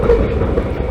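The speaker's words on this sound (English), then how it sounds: "Hitting joints in the tracks, the same way that diamonds have their own sounds" CSX freight train wheels rolling over rail joints on the ANB line, loud and close, a steady rumbling clickety-clack with no voices.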